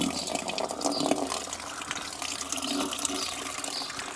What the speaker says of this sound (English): So we'll just water these in really good.